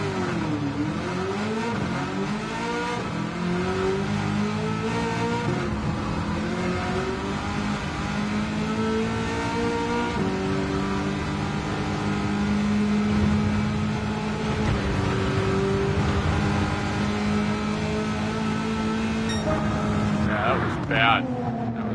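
Car engines in Gran Turismo 7 roar loudly and continuously, revving up and down through gear shifts with rising and falling pitch, close and dominant, with a person talking over them.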